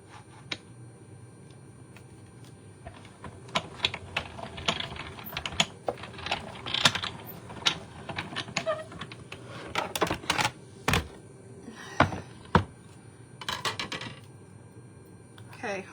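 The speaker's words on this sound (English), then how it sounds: "so now we can try to die cut this" A die cutting machine runs card through for a Valentine's shaker card, with a quiet hum and then a run of sharp clicks, clacks and mechanical knocks at an uneven pace, close by.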